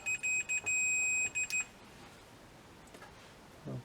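Multimeter continuity beeps while measuring ohms during repair of a dB Technologies digiPro SUB15D2 subwoofer: a few short bursts then one longer steady tone, close and clear, followed by quiet handling noise.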